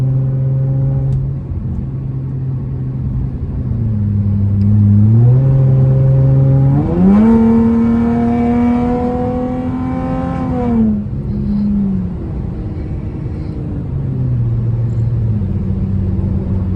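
A Chrysler 300S engine drones from inside the car, its tone climbing and falling through several gear changes, a loud surging rumble while driving, with no talk.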